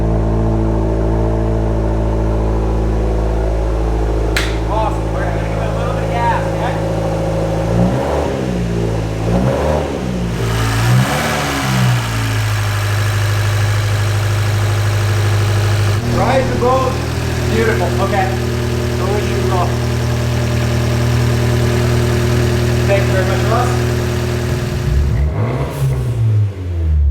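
An Abarth 124 with a big turbo, converted to run on E85 fuel, idles and then gets several sharp revving bursts that rise and fall, heard up close with a constant idle drone between the blips.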